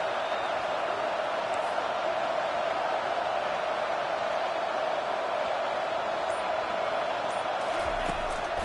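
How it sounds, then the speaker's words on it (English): Stadium crowd in a college football video game, UConn against Maryland, a dense continuous roar on a big third down holding steady and loud, with a faint thump near the end. "The crowd elevating its energy, willing this defense to get a stop on this big 3rd down."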